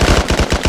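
Gunfire in the S.T.A.L.K.E.R. video game rattles out as a short, loud automatic burst of about six evenly spaced shots, close and rapid.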